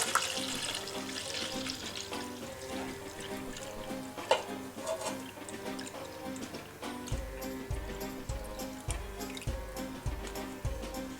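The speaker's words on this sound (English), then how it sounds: "And it's just a matter of pouring our liquid straight in." Liquid pours into a mould set in a bowl, a continuous trickling and splashing stream that runs steadily under quiet background music.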